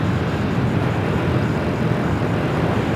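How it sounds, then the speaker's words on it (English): A Delta Boeing 767-400ER at Los Angeles International Airport, a loud continuous low jet roar that holds steady throughout with no voices. "The Delta 767 at 400 ER up next."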